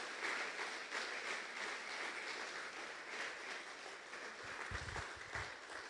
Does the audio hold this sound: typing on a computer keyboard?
no